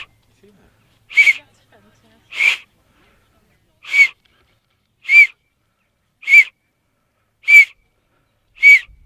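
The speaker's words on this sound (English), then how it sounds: "You drill a hole in it and then you can use it as a whistle." A whistle carved from a deer phalange bone gives seven short, shrill, evenly spaced blasts, loud and close, with silence between each toot.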